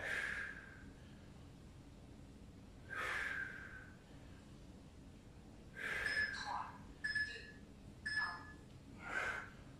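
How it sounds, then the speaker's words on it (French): Hard, forceful exhalations from someone pushing through a beginner HIIT strength workout, arriving in irregular bursts: one near the start, another a few seconds later, then a quicker cluster of huffing breaths, fairly close but not loud. "Soufflez bien."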